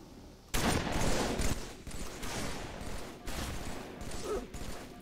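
Rapid gunfire from the Halo 3 video game, a dense, continuous burst of shots that starts abruptly and stays loud and near for several seconds with brief dips, no talking over it.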